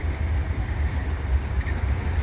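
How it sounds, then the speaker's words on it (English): A Via Rail passenger train of stainless Budd coaches rolls past outdoors in the fall, giving a steady low rumble of wheels on rail that holds even and continuous throughout, with no voices. "Via train there with the Budd cars"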